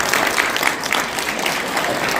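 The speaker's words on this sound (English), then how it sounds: "Make a round of applause for all of" Applause from a conference crowd at a Madison nonprofit day event, a brief burst of dense, steady clapping with a faint hum of cheering, no talk over it.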